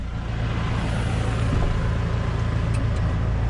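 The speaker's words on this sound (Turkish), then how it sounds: "Traktör soğuk olduğunda kollar biraz yavaş iniyor tabii." A 112-horsepower tractor runs at a steady, loud, close rumble while lowering the hydraulic arms of a 13-tine chisel plough, with no voices and no clear separate hydraulic sound.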